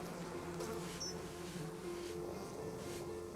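Honeybees droning steadily at a hive, a close, continuous buzzing hum with faint fluctuations and no voices.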